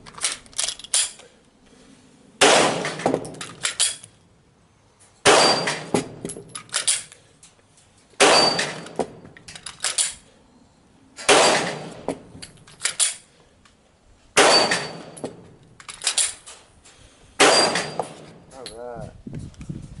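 Pistol shots fired in quick bursts on Bill Wilson's 5x5 live-fire drill, six sharp groups of loud reports spaced a few seconds apart with metallic target clangs, and someone speaking between strings.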